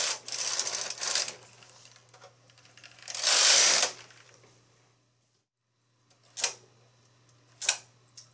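A knitting machine carriage runs across two rows, giving bursts of rattling mechanical clatter with quiet pauses between passes, close and without talk.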